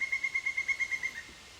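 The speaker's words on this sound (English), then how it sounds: "a family of pileated woodpeckers working right around me here" A pileated woodpecker gives a rapid, evenly spaced run of about ten loud piping notes that fade at the end, heard outdoors with no talk.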